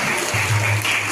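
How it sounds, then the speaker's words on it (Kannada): An audience claps in applause at a gathering by a new bus stop opposite a church, a dense, steady patter of many hands heard close, with a low voice murmuring beneath. "ಎಲ್ಲರೂ ಕೈ ಚಪ್ಪಾಳೆ ತಟ್ಟಿ ಅವರಿಗೆ"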